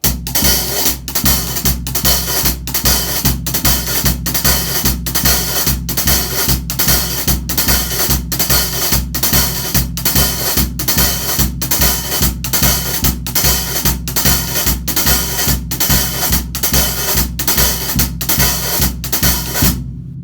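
A steady drum-set groove with crisp, driving hi-hat strokes mimicking a guira pattern over a quarter-note pulse in a fast, even merengue rhythm, loud and continuous without any talking.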